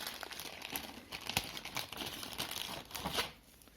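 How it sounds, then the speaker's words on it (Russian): A plastic packet of branded cable ties for a be quiet Silent Base 801 PC case is handled up close, giving a continuous soft crinkling with a few sharper rustles, fairly quiet, with no voices. "Дальше идет пакетик с фирменными стяжками."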